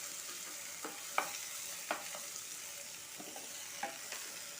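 Chopped tomatoes with salt sizzle steadily in a pan for biryani while a spoon stirs them, giving a constant frying hiss broken by a few light scraping knocks, with no voices.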